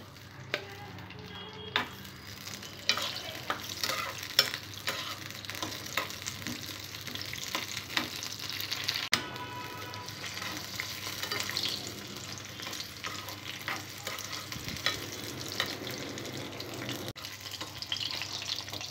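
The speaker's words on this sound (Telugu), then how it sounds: "ఆయిల్ వేడైన తర్వాత కొద్దిగా పల్లీలు, పచ్చిమిర్చిని ఫ్రై చేసుకోవాలి." Peanuts and green chillies frying in hot oil in a pan, giving a constant crackling sizzle with scattered pops and occasional stirring scrapes, close and steady, with no voices.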